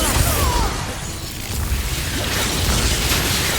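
A Bombarda spell explosion in the video game Hogwarts Legacy, a loud, dense burst with rumbling low end that stays steady for several seconds, no talk over it.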